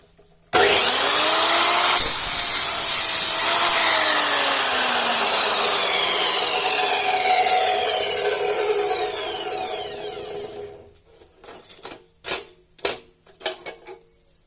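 An RTRMAX RTM 694 profile cutting machine slicing through a metal profile gives one loud, sustained high-pitched whine for about ten seconds as the blade winds down, followed by a few sharp clanks.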